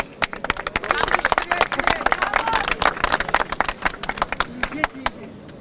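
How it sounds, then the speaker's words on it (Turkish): Crowd clapping and applauding on a street in Ankara after someone is invited to play music, sharp individual claps mixed with a denser ragged applause, with voices and chatter underneath. "Size Bravo, bir alkış."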